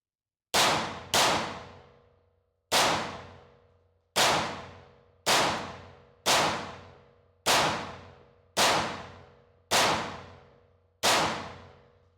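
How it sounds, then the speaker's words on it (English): CZ Shadow 2 pistol firing 65 grain training ammunition at a target, ten sharp loud shots with echoing decay, the first two quick together and the rest spaced about a second apart. "And I'm actually going to be shooting this target here. And this is with the 65 grain training ammo."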